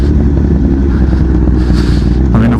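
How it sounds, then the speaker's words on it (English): Honda CBR1000RR Fireblade 2016 inline-four motorcycle engine revving up quickly, a loud, continuous close-up roar with dense low rumble and mechanical clatter throughout. "Just can't believe how much quicker the revs pick up, because it's obviously inline 4 compared to the triple."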